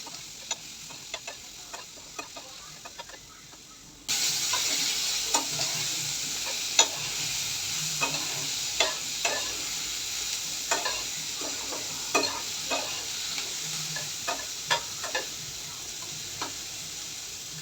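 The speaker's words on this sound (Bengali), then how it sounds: "এখন পেঁয়াজটা রসুনটা একটু হালকা করে ভেজে নেব" Onion and garlic fry and are stirred in a pan for a Bengali hilsa fish-tail bharta: a steady sizzle jumps louder partway through, with small clicks of a spatula scraping the pan at regular intervals and no voices.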